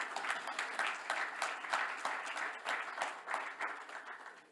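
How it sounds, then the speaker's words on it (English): An audience applauding guests at a panel conversation, a steady patter of many hands clapping at moderate distance, gently fading toward the end. "I'd like you to give these gentlemen a round of applause."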